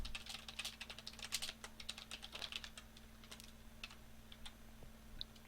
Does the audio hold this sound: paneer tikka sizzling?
no